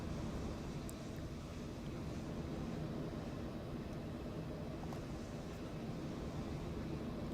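Jet airliner landing at Boston in a flight simulator, a steady broadband engine roar with rumbling wind-like noise, held at an even level throughout with no talking.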